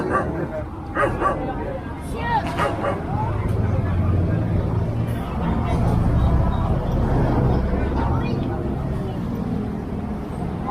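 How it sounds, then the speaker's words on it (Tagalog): A dog that has recently given birth barks repeatedly and whimpers near a roadside, with sharp yips over a background of people talking and vehicle noise. "Kung panganak po yung aso"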